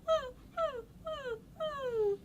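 A human voice imitates a puppy whimpering with four high, falling hums in a steady rhythm, each a short nasal whine sliding downward, the last one drawn out longer; close and fairly quiet, with no other sounds.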